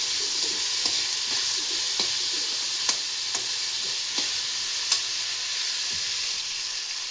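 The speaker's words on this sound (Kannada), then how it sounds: "ಹಾಗೆ ಟೊಮೊಟೊ ಹಾಕ್ತಿದ್ದೀನಿ. ಟೊಮೊಟೊ ಕೂಡ ಚೆನ್ನಾಗಿ ಒಂದು ರೌಂಡ್ ಫ್ರೈ ಆಗಲಿ." Tomato pieces frying for a brinjal curry, a steady close sizzle with the light scrape and clack of a spoon stirring the pan every second or so, no talking.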